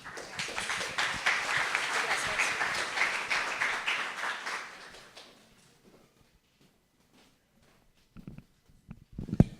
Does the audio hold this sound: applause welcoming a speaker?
yes